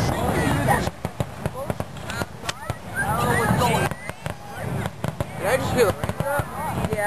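Fireworks bursting in a rapid, irregular series of sharp cracks and pops, some close and loud, while people talk and exclaim throughout.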